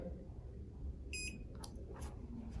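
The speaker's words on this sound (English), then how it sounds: "Collar's off, 1 beep, all good to go." A faint, short electronic beep from a FenceTec hidden-fence dog collar switching off, over a low steady hum, followed by a couple of quieter bursts of noise.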